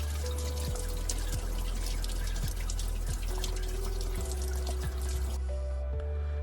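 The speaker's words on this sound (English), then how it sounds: "When you drop your coolant, you'll want to make sure that you spill it everywhere, like so." Coolant from a Ford BA Falcon XR6T draining and splashing steadily, a close continuous pour with scattered drips, alone with no talk.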